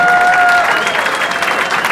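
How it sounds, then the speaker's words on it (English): A crowd at a Republican party election-results celebration in Nassau applauds candidates, a short burst of dense clapping and some cheering at a steady loud level throughout. "Applause for some candidates who work so very hard"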